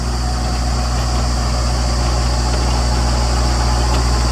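A tractor engine runs steadily while ploughing a field, a loud, close, continuous drone with a low hum and no variation in pace. No voices.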